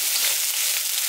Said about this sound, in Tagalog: Gisa po muna natin. Siyempre, sibuyas.